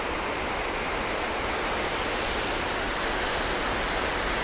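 The memorial pool waterfall at the World Trade Center site roars as a steady, dense wash of falling water, loud and continuous with no break and no voices.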